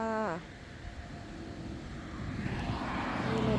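Propeller airplane droning overhead above apple trees in an orchard abroad, a steady low engine rumble that swells slightly toward the end, with a brief high whine at the start.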